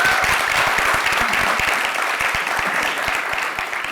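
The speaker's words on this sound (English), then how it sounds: "Let's have a round of applause." A ceremony audience applauds a founding member of Gungunalo, with Javed Akhtar and Shankar Mahadevan present: dense, steady clapping from a large crowd, loud and close, holding for several seconds and easing slightly at the end.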